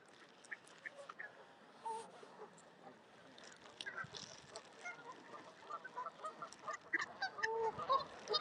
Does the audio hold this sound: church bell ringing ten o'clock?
no